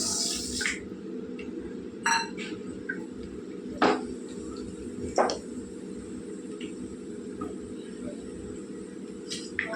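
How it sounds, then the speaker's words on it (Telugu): Mustard seeds and cumin hit hot oil in a pan, giving a steady hissing sizzle with a handful of sharp pops and crackles scattered through it. "చూసారు కదా, వేడెక్కింది. ఇందులో మనం ఆవాలు, జీలకర్ర వేసుకుందాం."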